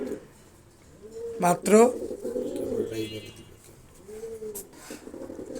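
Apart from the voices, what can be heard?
Beauty Homer pigeons cooing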